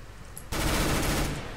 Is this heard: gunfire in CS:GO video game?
yes